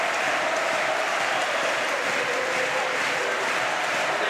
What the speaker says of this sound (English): I wonder how much the noise of this crowd is affecting RENGGLI and MATHEZ